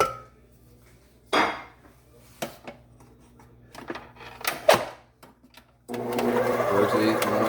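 Scattered clinks and knocks come first, then a stand mixer starts in first gear on orange pound cake batter, settling into a steady close motor whir for the last seconds.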